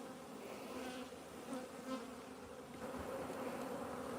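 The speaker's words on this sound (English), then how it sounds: "A lot more bees on top of the bars now." A dense, steady buzz of many honeybees close by in an open hive during a midwinter inspection, a continuous droning hum with slight swells, no voices.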